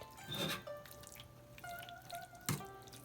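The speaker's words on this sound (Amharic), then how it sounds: "ውሃው በደንብ እስኪጠል እንጠብቀዋለን፣ ምክንያቱም አሁንም ውሃ አለው በደንብ።" Water drips from homemade Ethiopian cottage cheese (ayib) left to drain, a few soft, close drops falling at irregular intervals over a quiet background.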